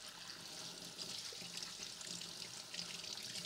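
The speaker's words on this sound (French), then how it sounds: "on va les rincer, hop, ils vont partir sous l'eau" Radishes rinsed under a running kitchen tap, a steady close hiss of flowing water with faint splashing throughout.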